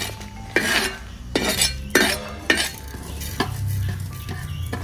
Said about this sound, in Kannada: ಬೆಂಕಿಯಲ್ಲಿ ಮೀಡಿಯಂ ಫ್ಲೇಮ್ ಇಟ್ಕೊಂಡು ಈ ಥರ ಎಲ್ಲಾನೇ ಹುರಿದುಕೊಳ್ಬೇಕು